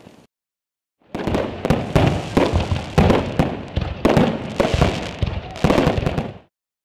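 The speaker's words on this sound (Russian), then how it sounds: "Огни фейерверка озарили ночное небо Грозного." Fireworks over the night sky of Grozny during celebrations: a rapid barrage of sharp crackling bursts and booms, loud and close, after a brief silence.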